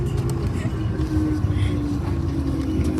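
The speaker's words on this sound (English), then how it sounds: "I think the engines are turning off" Low, steady engine drone inside the cabin of an Airbus A330 after landing at Manila International Airport. The rumble stays loud and even throughout, with faint voices mixed in.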